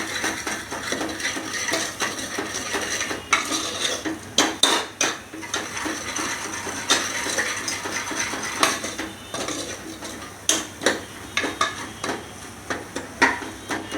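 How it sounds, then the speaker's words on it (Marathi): Steady, close-up scraping and stirring in a pan as misal masala is sautéed in oil, with a constant sizzling hiss underneath. "व्यवस्थित पैकी असं परतून घेऊयाला जरा तेल सुटेपर्यंत आपण ह्याला परतून घेऊया"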